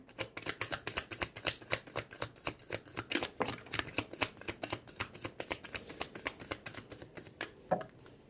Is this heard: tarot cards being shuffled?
yes